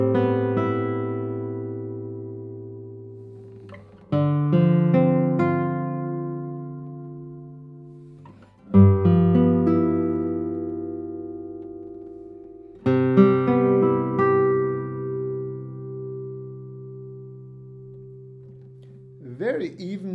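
An acoustic nylon-string guitar plays four slow chords, each plucked and left to ring out with long, smooth sustain in a quiet room.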